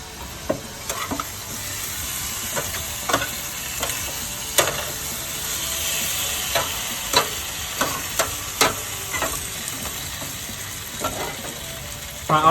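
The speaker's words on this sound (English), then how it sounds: "My olive oil is starting to get nice and hot." Olive oil sizzles loudly and steadily in a hot pan, a continuous bright hiss broken by frequent crackling pops and spits.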